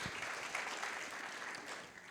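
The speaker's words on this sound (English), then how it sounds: "I'm going to ask you to clap one more time for Equal Justice Now" Audience applause at a panel discussion for Equal Justice Now, with Attorney Benjamin Crump present: a steady, even wash of clapping from a crowd that holds for about two seconds at moderate distance.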